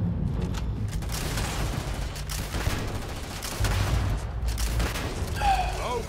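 Gunfire in the video game Starfield comes as bursts of loud, close shots with a low rumbling booming underneath, and a short mechanical clatter follows near the end.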